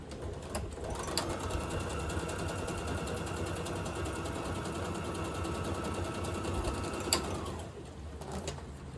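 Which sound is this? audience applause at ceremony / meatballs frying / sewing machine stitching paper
sewing machine stitching paper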